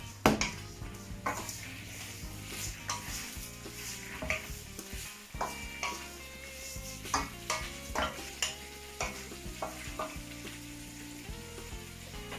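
Prawns sizzle in hot oil in a pan, with a steady close frying hiss broken by repeated clinks and scrapes of a utensil stirring against the cookware. No one speaks.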